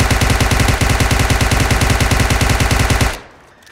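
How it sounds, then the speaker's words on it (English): A UMP submachine gun with no attachments fires full-auto in PUBG Mobile, a loud, fast, even burst of unsuppressed shots lasting about three seconds before cutting off, with no voices. "So the UMP, let's go even further. Let's take off all controls and let's just shoot it."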